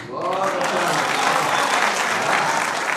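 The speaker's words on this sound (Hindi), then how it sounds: "अपनी तालियों की गड़गड़ाहट इससे कम मत होने दीजिएगा।" A poetry recital audience at an Urdu Academy event breaks into sustained, dense applause that fills the whole stretch evenly, with a faint voice briefly audible at the start.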